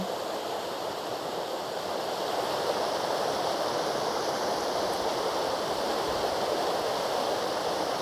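Steady broadband rushing of a flowing river, continuous and even throughout, like a stream running close by with no voices.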